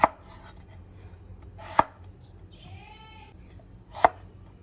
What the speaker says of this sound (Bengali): আলু আর পটলগুলোকে খোলা ছাড়িয়ে ছোট ছোট টুকরো করে কেটে নিলাম